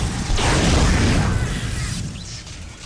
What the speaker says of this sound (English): The line gun is so ridiculous right now.